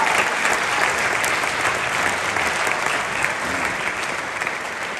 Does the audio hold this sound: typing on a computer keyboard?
no